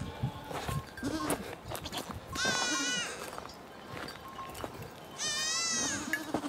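Goats on a ranch near Carmona, Seville, giving several loud wavering bleats, two especially long and strained, amid quieter shuffling and footsteps.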